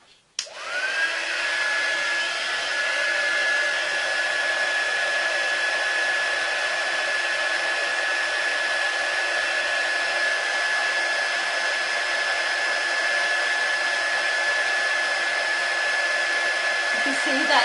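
A hair dryer switches on with a click and runs steadily, blowing hot air over gift wrap for a Christmas hamper, giving a constant close whirring hiss with a clear motor whine throughout, alone and without talk.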